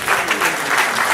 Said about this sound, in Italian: dobbiamo fare un grande applauso al nostro Ronzo Pezzolla che oggi compie gli anni